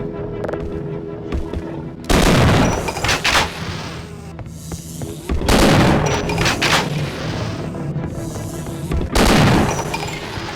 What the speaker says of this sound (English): It's actually a pretty fast reload for an M249.